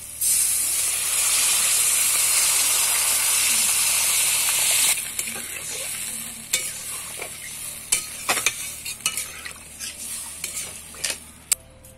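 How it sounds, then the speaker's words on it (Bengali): Water poured into a soya chunk kofta curry, a loud continuous hiss of steam for several seconds that fades into quieter sizzling with scattered spatula scrapes and knocks. "এবার জল দিয়ে দেব"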